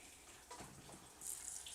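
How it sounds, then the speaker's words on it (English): Tap water runs into a quart jar holding seeds, a steady faint splashing rush that swells slightly near the end, with no voices. "fill that up with water."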